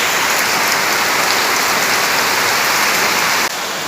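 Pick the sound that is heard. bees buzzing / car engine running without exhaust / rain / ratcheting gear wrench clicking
rain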